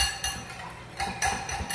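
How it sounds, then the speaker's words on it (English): A whisk stirs peanut butter sauce for salmon, rattling metal against the bowl in quick, uneven bursts of clinking and tapping. "now using your whisk, just whisk that around"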